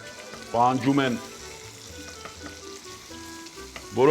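Onion fries in hot oil in a pot with a soft, constant sizzle in the background, broken by two short bursts of a voice near the start and the end.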